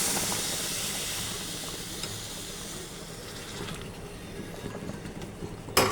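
Boiling water poured into roasted semolina in a hot pan, a steady steamy hiss and sizzle that holds close and fairly loud for several seconds, ending in a sharp clatter.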